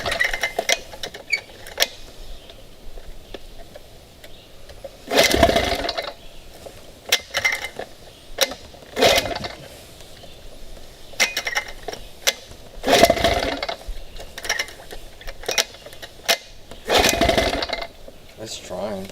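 Someone repeatedly tries to pull-start a 1975 Sea King Chrysler 15 HP outboard motor from a barn find, giving several sharp rasping cord pulls a few seconds apart that never catch into a running engine, with a person talking between attempts.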